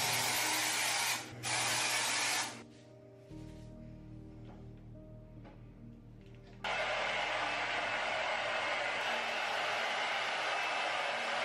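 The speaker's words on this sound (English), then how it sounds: "So now that I blow dried the actual product in my roots to activate it" A hair dryer blows hair to activate styling product at the roots, a loud steady rushing roar that breaks briefly, drops to a softer hum with faint tones and then returns at full strength.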